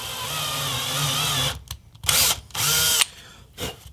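A 1/4 tap cuts a thread into the plastic of a Nerf blaster, loud whirring bursts that stop and restart in short spurts.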